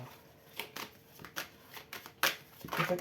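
Cards from an oracle deck being handled and drawn, a series of soft papery slides and flicks at irregular intervals, fairly quiet and close, with no clear speech.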